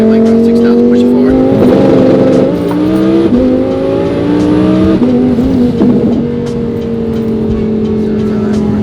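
A twin-turbo Audi R8 engine on a Motec rolling anti-lag setup is held at steady high RPM, producing a loud sustained drone with stepped pitch shifts and crackling pops over the top, and a voice speaks over it.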